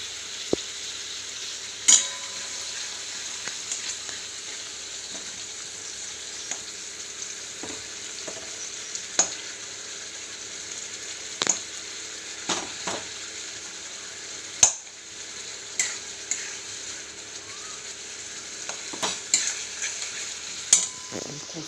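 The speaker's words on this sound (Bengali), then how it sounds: "টমেটো নাড়তে নাড়তে টমেটোটা গলে যাবে।" Tomatoes with chilli and salt frying in a pan, a soft continuous sizzle broken by scattered sharp clicks and scrapes of the spoon stirring against the pan.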